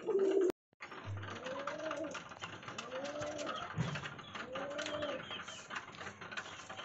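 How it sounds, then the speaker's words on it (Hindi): Domestic pigeons cooing softly and repeatedly while pecking at grain, with faint clicking and scratching of feeding underneath and a brief bump at the start. "कबूतर सब कैसे दाना खा रहे हैं"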